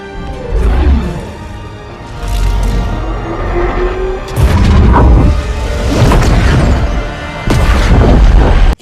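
A slipspace portal collapses into a nuclear-scale explosion in Halo 2, heard as a series of deep booming blasts and crashing rumbles with rolling debris, loud and sustained across several seconds.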